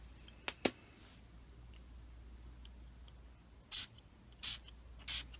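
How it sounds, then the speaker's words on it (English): Several short, bright bursts of a spray bottle misting ink onto art journal paper, two quick ones early and three more spaced apart later, with quiet pauses between. "Well, they do spray nice."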